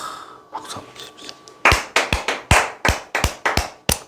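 Audience applause at a Korean insurance telemarketing seminar, starting with a few scattered claps, then a sharp burst of loud, irregular clapping that repeats in uneven hits until the end.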